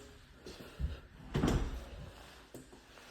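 The main front door of a 1,800-square-foot house in Princeton, Texas swings open, a few soft knocks and a muffled thump of the latch and door in a quiet room.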